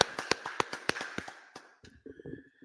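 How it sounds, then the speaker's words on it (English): Sharp, evenly spaced claps from an audience at a scripture class, about a dozen crisp hits in quick rhythm that thin out into softer scattered taps near the end. "Clap it up, clap it up, clap it up."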